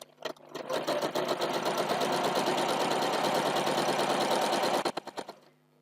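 A sewing machine runs a quarter-inch seam along two edges of a quilt block, a fast even rattling hum that starts with a few stutters, runs steadily for about four seconds, then slows in short bursts and stops.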